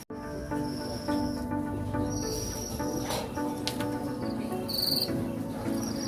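Crickets at a cricket farm near a residential area in Medan Tembung chirp in a dense, continuous chorus, steady and fairly close, with no voices over it.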